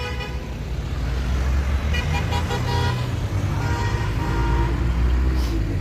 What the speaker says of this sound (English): Like all those cars honking are them leaving,